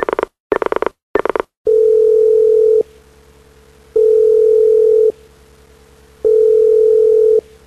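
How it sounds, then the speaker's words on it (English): A telephone ring tone repeats unanswered, three long even tones with pauses between, preceded by a few short dialing beeps, clear and alone. "But the phone rang and rang, and no one answered."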